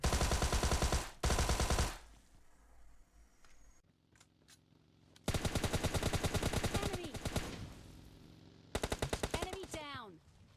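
Video game gunshots ring out in loud automatic bursts, one early pair, then a long sustained volley and a final burst, with a quieter stretch of scattered clicks between them and some voices mixed in.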